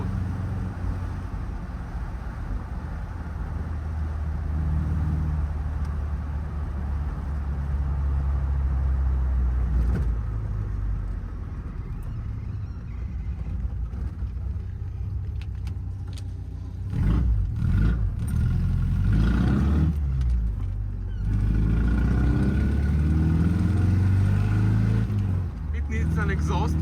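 A Triumph TR4A sports car engine after repair of a rough-running, low-power fault drones steadily while driving, a low rumble with road noise that swells louder in the last third.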